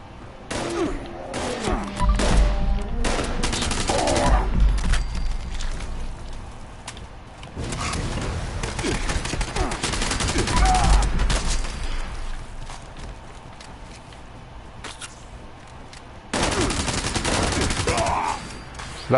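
Gunfire from an Elder's Mark rifle in Fallout 76 comes in rapid bursts of sharp shots separated by short pauses, with several volleys of loud, crackling reports.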